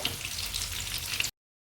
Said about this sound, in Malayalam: സമയമെടുത്ത് മീൻ വറുത്തെടുക്കുക